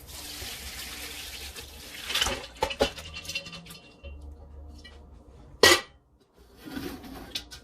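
Gumbo stock strained in a kitchen: liquid pours and trickles through a strainer, with clinks of metal pot and utensils, one sharp clatter midway, close and fairly quiet.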